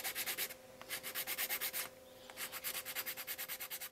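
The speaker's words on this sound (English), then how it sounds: "it's just a matter of sanding this down and we'll be ready to paint" A wooden topwater mouse lure is sanded on a lathe, giving rapid, rhythmic rasping strokes, close and clear, with a short pause midway before the sanding resumes.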